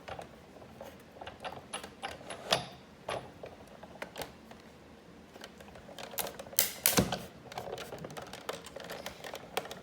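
Die-cutting machine hand-cranked with a cutting mat and dies passing through its rollers, giving a series of close, uneven mechanical clicks and ratcheting knocks, fairly quiet, with no voices.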